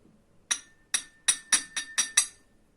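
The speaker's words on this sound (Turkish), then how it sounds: "Şimdi fincanı açıyorum." A porcelain Turkish coffee cup being handled and opened for a fortune reading, producing six or seven bright, close clinks in quick succession, with no talking.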